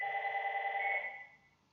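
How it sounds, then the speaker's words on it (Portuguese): An electronic telephone ring trills in a single steady burst before cutting off and fading, clear and fairly close with no voices over it. "Espera o telefone parar de tocar."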